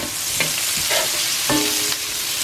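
Onions frying in butter in a pan, a steady broadband sizzle with a few scraping stirs of a utensil, close and loud, no voices.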